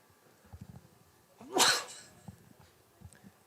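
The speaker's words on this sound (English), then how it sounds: "that's our first sneeze of the Southeast Regional" A single loud sneeze bursts out during a Babe Ruth Southeast Regional baseball game broadcast, standing alone above faint background crowd and field noise.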